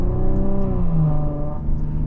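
A 2023 Maserati Levante Modena SUV engine revs up and settles, a close, steady low growl with rising and falling pitch over about two seconds, with no voices.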